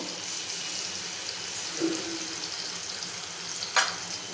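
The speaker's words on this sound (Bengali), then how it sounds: "এবার তেলের মধ্যে মশলাটা দিয়ে দেব" Ginger, cumin and coriander paste fries in hot oil for a paneer curry, a steady broad sizzle throughout with a brief sharper crackle near the end and no voices.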